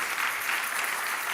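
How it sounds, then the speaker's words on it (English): A brief, steady burst of audience clapping honors the judges at a startup showcase awards ceremony. "Round of applause for our judges, please, folks."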